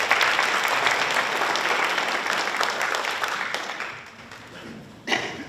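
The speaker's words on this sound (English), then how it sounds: "let's give a round of applause for answering that first question" Audience applause at a school committee candidate forum, a dense burst of clapping that gradually thins and fades, then a brief final flurry of claps near the end.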